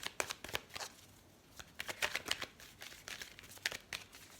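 Tarot cards being shuffled by hand: quiet, close riffling bursts and soft papery flicks in irregular clusters, with no voices.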